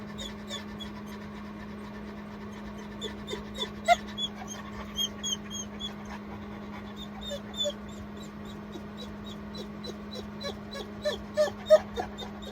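Uma, a dog weak after surgery with an epidural, whimpers softly and pants in irregular little bursts over a steady low hum, while someone speaks to her gently at close range.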